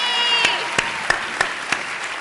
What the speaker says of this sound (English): How about an applause for Schleppy?